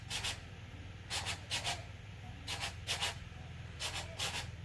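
A voice imitates a train with rhythmic pairs of breathy, hissing chuffs that repeat at a steady pace, close and fairly soft over a low background hum.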